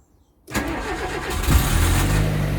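A Nissan Micra K11 engine cranks over, its starter motor not engaging properly, and catches after a brief silence, then settles into a loud, rough idle close by.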